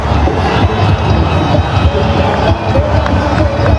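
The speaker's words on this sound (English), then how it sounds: "The roar in the crowd tell you all about that one" A stadium crowd at a Pakistan versus Sri Lanka T20 cricket match roars after a boundary, a loud, continuous swell of cheering and babble filling the whole moment.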